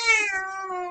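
An angry cat gives a single drawn-out, tonal meow with a growling edge, close and fairly loud, lasting under a second with no talk over it.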